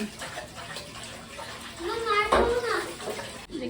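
Fish scrubbed by hand under running tap water, a steady gush and splash of water with rubbing, close by, while a voice talks over it.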